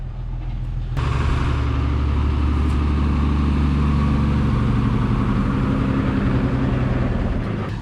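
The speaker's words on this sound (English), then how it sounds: "Okay, so finally our truck has arrived." Truck engine running loud and close, starting abruptly and holding a steady rumbling drone with no talk over it.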